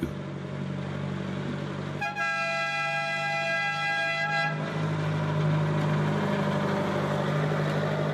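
An original Micheline railcar with a 650-horsepower Panhard engine on the Madagascar line sounds a sustained two-tone horn for about two seconds over a steady low engine and rail rumble that continues alone afterward.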